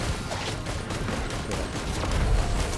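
Dense, rapid bursts of explosive gunfire-like blasts from a turret in Risk of Rain 2 roll continuously, loud and close, building slightly toward the end with no talking.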